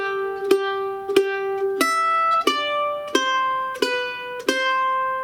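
Mandolin plucks a single-note bluegrass ending to "She'll Be Coming 'Round The Mountain", seven bright picked notes in a steady, even rhythm, close and clear with ringing sustain and no talk.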